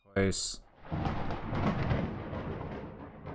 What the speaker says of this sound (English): I then heard some thunder, but I have no idea what it was.